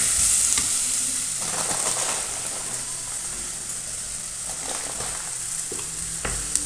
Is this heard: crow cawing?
no